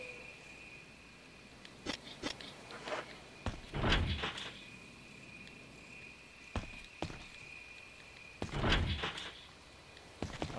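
Doors in the Resident Evil remake, several heavy thuds and sliding, clunking impacts spaced out over a quiet, faintly humming background, fairly close, with no talking.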